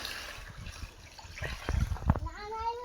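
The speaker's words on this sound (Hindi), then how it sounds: "दीदी डाल दें पानी" Water poured at home during household chores, trickling and splashing briefly, with background voices and a rising tonal sound near the end.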